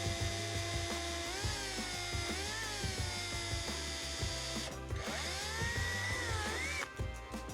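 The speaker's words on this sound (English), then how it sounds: "I'm now going to drill the holes to size for the screws for the hinges." Drill widening screw holes to size in the plastic hinges of a Technics SL-B2 turntable dust cover, a close, continuous whirring whine rising and falling in pitch over a pulsing motor hum, with brief pauses near the end.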